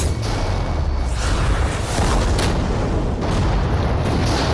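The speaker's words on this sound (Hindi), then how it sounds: "तेज धमाका था।" A loud, sustained roaring blast with rumbling booms that swell and recede over several seconds, overwhelming and close, as a Lamborghini is destroyed in a giant shredder.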